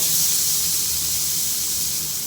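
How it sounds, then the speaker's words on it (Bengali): Marinated tandoori chicken pieces hit a frying pan over high flame, producing a loud, close, continuous hissing sizzle that holds steady without pause. "এবার চিকেনগুলো একে একে সুন্দর করে ফ্রাই প্যানে দিয়ে দেবো"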